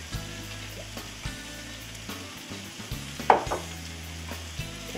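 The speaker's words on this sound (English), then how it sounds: "So go ahead and just saute it down." Vegetables sauté in olive oil in a pan with a soft, steady sizzle, broken by occasional stirring scrapes and a brief louder clatter near the middle.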